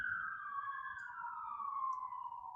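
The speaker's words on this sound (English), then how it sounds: "oh, there's a siren" An emergency siren wails outside in LA, a single long tone gliding slowly downward, heard at a distance and fairly faint over a low background rumble.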